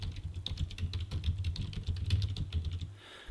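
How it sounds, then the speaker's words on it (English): Rapid keystrokes on a computer keyboard as a search term is entered, a steady run of close, fairly quiet clicks over a low background hum, stopping near the end. "So I'll type in epigenetics adolescents and I will search for research articles."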